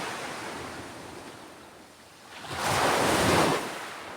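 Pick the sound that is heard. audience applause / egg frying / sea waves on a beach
sea waves on a beach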